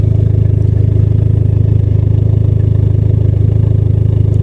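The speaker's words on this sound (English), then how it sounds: "You can listen to this exhaust." Loud, steady idle of a 2003 Dodge Neon SRT-4's exhaust, recorded up close, with an even low throb and faint rhythmic clatter running unbroken throughout.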